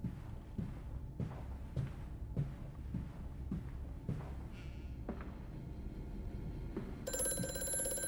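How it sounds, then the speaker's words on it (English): A telephone rings in the video game Amnesia: A Machine For Pigs, faint and distant at first under repeated thudding footsteps, then a bright shrill bell trill swells in near the end. "Phone call."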